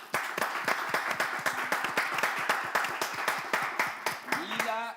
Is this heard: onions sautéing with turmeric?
no